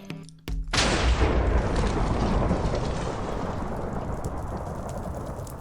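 Fire breaks out inside a player's base in the Minecraft modpack StoneBlock 4. A sudden burst gives way to a steady, loud crackling roar that slowly fades but keeps going to the end.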